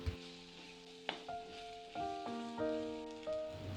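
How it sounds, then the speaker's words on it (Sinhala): Chopped cuttlefish sizzles softly in a pan while being stirred around, a quiet frying hiss broken by a few scraping knocks, with steady tonal hum behind it. "දැන් ඉතින් පොඩ්ඩක් එහෙට මෙහෙට කලවම් කරලා ටිකක් ෆ්‍රයි කරගන්න ඕන"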